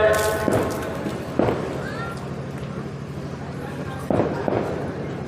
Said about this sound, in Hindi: एक तरफ ये आतिशबाजी भी हो रही है,